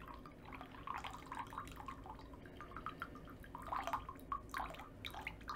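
Brewed tea drains from a kyusu teapot into a glass, a thin trickle breaking into irregular drips and small splashes, quiet and close with no talking.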